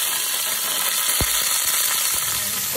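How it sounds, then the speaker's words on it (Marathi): Tadka of mustard seeds and chillies sizzles in hot oil, a loud continuous frying hiss with a sharp crackle near the middle, no talk. "आतां तडका दिवया."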